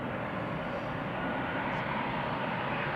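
A Transavia passenger jet at Amsterdam Schiphol Airport produces a continuous, fairly distant engine rumble, steady and unbroken throughout.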